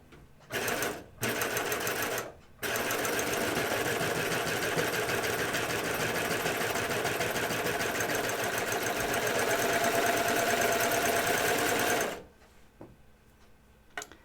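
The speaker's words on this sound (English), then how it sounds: "We're still sewing the Hudson pants." A sewing machine stitches Hudson pants in long steady runs, starting and stopping twice briefly at the beginning, then running continuously for about nine seconds before stopping.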